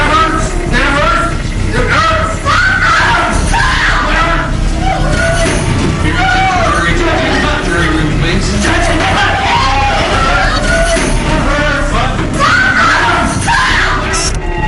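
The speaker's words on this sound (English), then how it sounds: "his daughters can be heard screaming in the background" During a domestic confrontation as officers try to subdue a man, his daughters scream in a loud, continuous, chaotic jumble of shrieks and shouting voices that lasts throughout.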